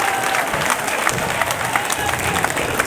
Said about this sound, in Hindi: भरपूर तालियां बजनी चाहिए अजहर के लिए।